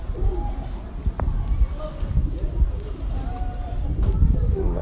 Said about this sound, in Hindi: बड़ा लाइक किया जा रहा है जी ये कबूतर जी